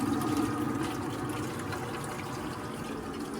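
Vinegar circulating through a Rheem tankless water heater during a descaling flush, a steady low gurgling liquid flow with a constant pump-like hum, continuous and fairly close throughout.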